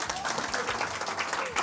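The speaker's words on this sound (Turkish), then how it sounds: "Zemmoti'yi de alkışlayalım." Audience applause at a Turkish quiz night, a steady wash of clapping from a crowd that runs throughout, with voices mixed in underneath.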